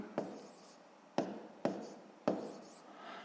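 Four sharp taps and short scratchy strokes of numbers being written by hand during a sixth-grade maths exercise, quiet and close, with silent pauses between marks.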